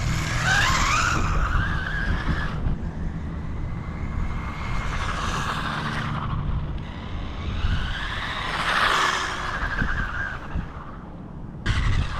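Cheap RC drift basher car with the gyro turned off skidding during a speed run, its tires squealing in repeated loud sweeps over a high electric motor whine, close by with no talk.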